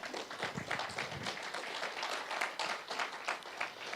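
A church congregation in Utah claps together at a service, a brisk and fairly dense round of applause heard at moderate distance for several seconds.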